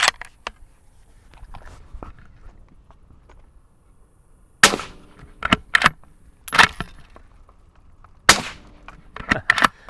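Several suppressed shots from a .308 rifle firing 168 grain supersonic FMJ ammunition through a SilencerCo Hybrid 46M suppressor, sharp loud cracks at uneven intervals with brief tails, after a quieter stretch of faint handling noise.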